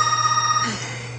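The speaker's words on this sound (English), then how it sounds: "And the phone rings when you're trying to record." A telephone rings with a bright trilling bell tone that cuts off partway, leaving a fading tail over a low steady hum; close and fairly loud, with no one talking.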